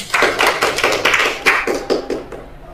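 An audience claps hands in a series of close, loud bursts, the rhythmic clapping rising and falling in short waves before fading out.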